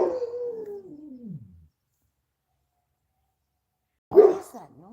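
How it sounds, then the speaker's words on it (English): A dog howls in a long falling wail that fades out, then after a silence a second sharp howling cry breaks in, close and loud, on a farm. "It sounded like a dog howling in pain."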